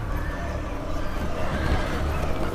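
A horse neighs amid a dense, loud movie-trailer soundscape of rumble and noise from a Planet of the Apes film in which apes ride horses, with no clear voices.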